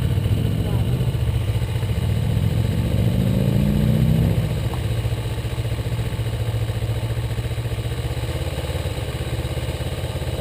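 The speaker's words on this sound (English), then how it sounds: "just ease the clutch out till it drags, and then just give it a little RPM" Kawasaki Ninja motorcycle engine rising in pitch for a few seconds as the clutch is eased out, then settling to a steady idle, loud and close, with people talking over it.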